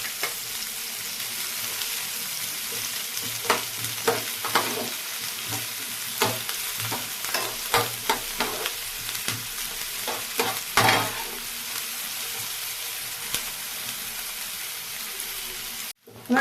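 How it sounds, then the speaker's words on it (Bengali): Onions frying in a pan for a stuffed chicken dish, a steady loud sizzle with scattered stirring scrapes and clicks running throughout, alone with no talk. "আমার পেঁয়াজটা অনেকটাই ভাজা হয়ে গেছে"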